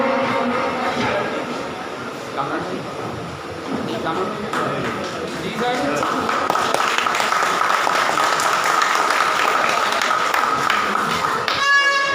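Applause at an award distribution ceremony, a crowd clapping steadily and loudly for several seconds, with someone speaking over it through a public address system.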